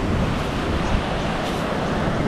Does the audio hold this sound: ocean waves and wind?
yes